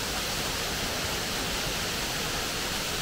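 Waterfall at Lower Otter Falls in North Carolina, a steady, loud broadband rush of falling water that fills the scene evenly from start to finish with no pauses.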